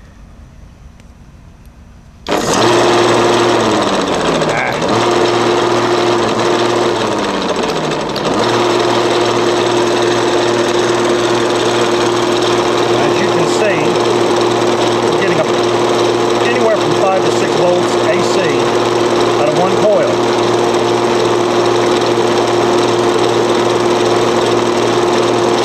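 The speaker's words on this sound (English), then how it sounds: "This big 1 horsepower motor pulls a lot of juice." A 1 horsepower electric motor drives a toroidal generator at about 1200 rpm. It starts abruptly, then gives a loud, steady high-pitched whine and hum with a faint rhythmic ticking, continuous to the end.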